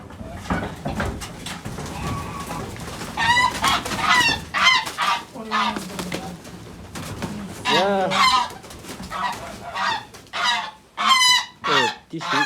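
Fattening geese on a farm honk and cackle loudly and close by, in repeated bursts that grow denser toward the end, with a low murmur of human voices at the start.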